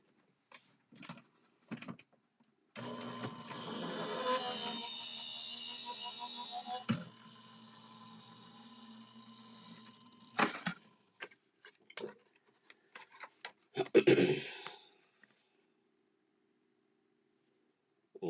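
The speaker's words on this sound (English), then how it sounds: "And I'm going to run this straight through my die cutting machine." A Crafter Companion die cutting machine cranks paper through in a steady mechanical whir lasting several seconds, followed by scattered clicks and rustling handling sounds, close and fairly quiet.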